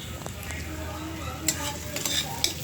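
Salted fish pieces frying in a pan make a continuous sizzle, with a spatula or utensil stirring and clinking against the metal now and then, up close and with no talk.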